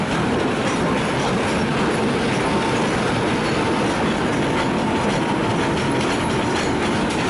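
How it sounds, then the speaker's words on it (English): Rail traffic at Budapest Keleti station, where a Vectron locomotive is towed along by a 460-class shunter, with a steady loud rumble of wheels and rolling stock and clickety-clack over rail joints throughout. "Oh, there's a Vectron locomotive,"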